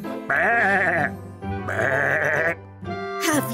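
A cartoon ram bleats in three drawn-out, wavering cries separated by short pauses, loud and up close.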